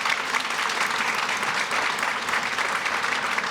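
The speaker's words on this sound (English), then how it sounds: "Now we can do a round of applause for all of our elected officials." Audience applause for elected officials at a chamber of commerce legislative breakfast, a steady, dense clapping that fills the room without pause for the whole stretch.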